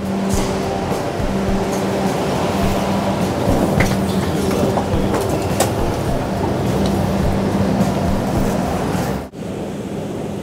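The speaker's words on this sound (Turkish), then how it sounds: "Metroya biniyoruz ve havalimanına geçiyoruz." An Istanbul metro train heads toward the airport, its steady rumble and rail noise running continuously from inside the carriage, with a faint tonal hum and a brief dip near the end.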